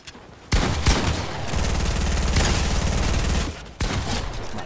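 Rapid bursts of automatic gunfire in the Fortnite battle royale video game, loud and sustained over several seconds with brief breaks between volleys, heard alone without talk.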